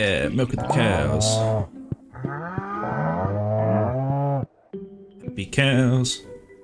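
Cows in the farming game Stardew Valley give a series of loud, drawn-out moos with gaps of quiet between calls, the lowing strong and close.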